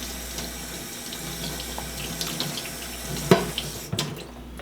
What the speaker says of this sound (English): Had to wash some dishes in between.